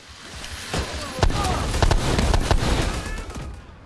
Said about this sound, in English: I'm shooting fire at the guys on the stairs.